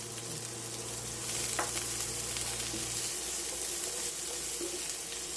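Onion stir-frying in hot oil over high heat, giving a steady, fairly soft sizzle and hiss throughout, with a low steady hum that stops partway and one or two brief clinks.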